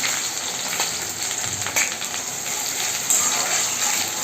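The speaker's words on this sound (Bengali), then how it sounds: "আর পেঁয়াজটাকে আমি সুন্দর করে লাল লাল করে ভেজে নেব" Onions fry in hot oil with whole cumin, whole garam masala and dried chillies, making a loud, continuous hissing sizzle with small crackling bursts throughout a short stretch, with no voices.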